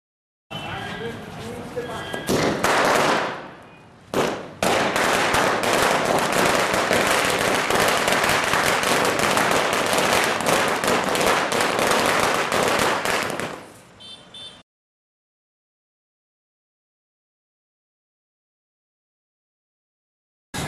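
Dense crackling bursts of firecrackers and fireworks set off by celebrating party workers at a Holi-time victory celebration, loud and continuous for about fourteen seconds with a brief gap, then stopping abruptly.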